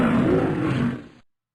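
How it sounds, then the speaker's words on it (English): A lion roars loudly and close up in one sustained, rough, growling burst of a little over a second, which then cuts off abruptly to silence. "Lion."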